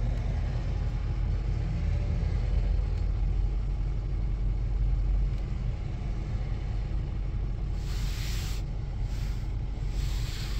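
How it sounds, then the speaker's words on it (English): A car cruises along Highway 27 near Humber College in the Toronto area on a cold early-spring day, with a steady low engine and road rumble from inside the cabin and a few brief hissing bursts near the end. "Taking a quick drive from Humber College to Malton."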